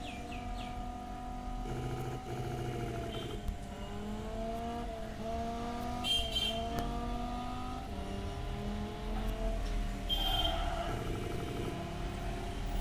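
In the Assoluto Racing video game, a car with a manual transmission revs and climbs through its gears, its engine tone rising and falling repeatedly at a steady, moderate level without any speech.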